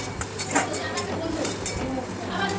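A spoon stirs chopped tomatoes in a pan while semolina upma is being cooked, giving repeated light scraping clinks against the metal over a soft sizzle, with a voice talking throughout.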